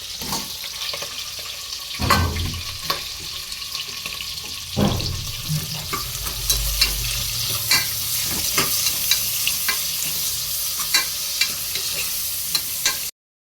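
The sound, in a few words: green chili and onion frying in oil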